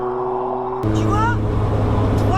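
A Renault R5 Turbo 2 engine hums steadily from inside the car, then steps up louder and climbs in pitch as it revs, with voices talking over it.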